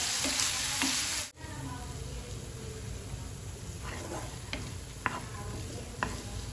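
Vegetables sauté in a pan for white sauce pasta, a steady close sizzle with occasional spoon clicks and stirring scrapes, no talking over it.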